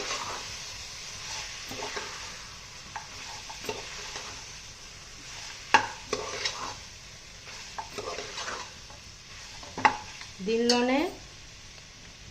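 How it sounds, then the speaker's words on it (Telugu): Prawns stirred into a frying mixed chicken and mutton biryani masala: a soft sizzle under scraping spoon-on-pan strokes and clinks, with a brief voice and a short whistling squeal near the end. "ఇప్పుడు దీనిలోనే ప్రాన్స్ని కూడా యాడ్ చేస్తున్నాను. ఇవన్నీ కలిపి బాగా మిక్స్ చేసుకుందామండి."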